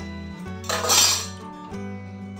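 A metal utensil lifts fried pantua, a syrup-soaked Bengali sweet, out of the pan and into sugar syrup. There is a brief clinking, scraping burst of metal on metal over a steady low kitchen hum.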